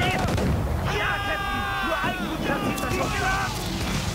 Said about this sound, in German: ich bin jetzt mal größenwahnsinnig und schieße ein Kriegsschiff an